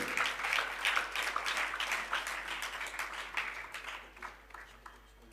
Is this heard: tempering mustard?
no